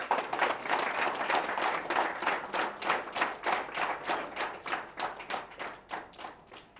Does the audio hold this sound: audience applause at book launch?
yes